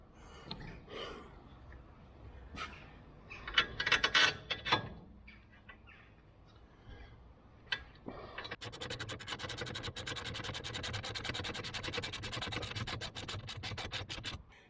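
A bolt being tightened on the rear shock absorber of a 2000-2007 Volvo V70, first with scattered scraping and rubbing of metal parts, then a fast, steady train of ratchet clicks that runs to the end, close and moderately loud.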